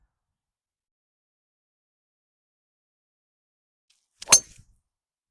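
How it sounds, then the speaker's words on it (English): A golf club strikes a drive off the tee at a links course in Fife, a single sharp metallic crack after several seconds of silence, followed by a brief fading tail. "Let's get a nice drive away."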